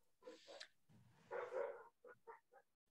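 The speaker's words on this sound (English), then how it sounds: "there's a lot of dog barking happening out there" Dogs bark outdoors in India, several short muffled barks heard at a distance, faint and alone.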